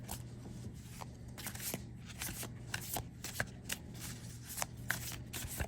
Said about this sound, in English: They don't shuffle too bad.